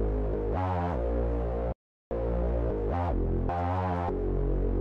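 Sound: hyperpop melody loop with complex re-space effect pattern

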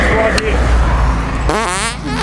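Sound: fart delivered as a prank

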